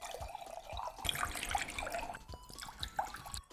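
Water pours into a cup in a steady, close trickle for several seconds, with a few brighter splashes partway through and no talking.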